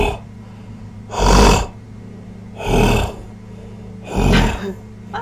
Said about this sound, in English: Sounds like some kind of deep, heavy breathing.